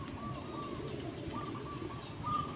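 A zebra dove (perkutut) coos from a tall tree, soft repeated rhythmic coo phrases heard at a distance over a steady hum of outdoor background noise.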